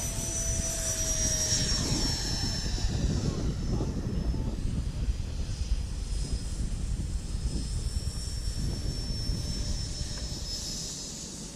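A Freewing F/A-18C Hornet 90mm EDF RC jet makes a low pass, its whining turbine-like roar holding steady and loud as it sweeps overhead, with faint voices in the background.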